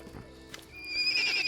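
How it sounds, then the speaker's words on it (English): A pair of frightened ponies in the fantasy game Pathfinder: Kingmaker give a brief close snort followed by a rising, shrill whinny, alone without talk. "A pair of scared ponies stands before you. They don't run away, but they snort loudly and neigh as you approach."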